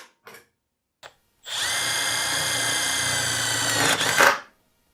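Milwaukee cordless drill driving a self-tapping screw, a few short clicks first, then a steady high whine for about three seconds that rises slightly before cutting off abruptly as the clutch stops it, close by with no talk.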